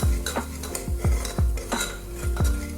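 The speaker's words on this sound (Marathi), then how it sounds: "आणि आता हे छान परतून घ्यायचं आहे एखाद दोन मिनटं" A spoon stirs and sautés a spiced bean and potato curry masala in a metal pan. Loud near clanks of the spoon against the pan come in an uneven rhythm roughly every half second, with faint frying beneath.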